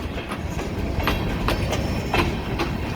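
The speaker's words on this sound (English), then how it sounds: "They're putting the trains on the other track, and then they're gonna come on through." A train rolls past on a railroad track, loud and close, with a steady rumble and rhythmic clickety-clack of wheels over rail joints, no talk.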